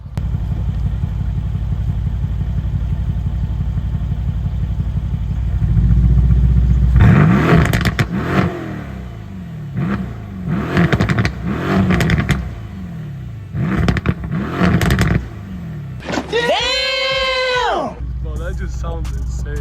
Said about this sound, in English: AMGs know what they're doing when they're making V8s.